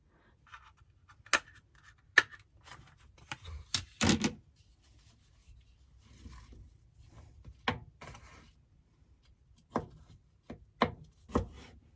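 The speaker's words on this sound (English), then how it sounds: "I like to trim the broccoli just a little bit of any dry ends" A knife trims the dry ends off broccoli on a cutting board in an RV kitchen, giving sparse, sharp chopping knocks at irregular intervals, with a few quick cuts close together and quiet gaps between.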